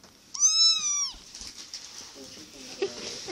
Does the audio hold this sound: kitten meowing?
yes